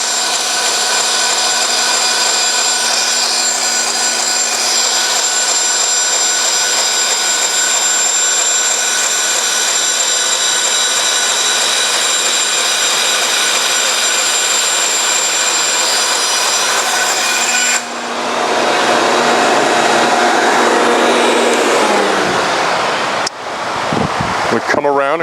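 Bandsaw cutting through modular composite wall panels, a loud sustained whine with steady tonal hum running for most of the time, then a rougher, noisier cutting burst before the blade winds down near the end.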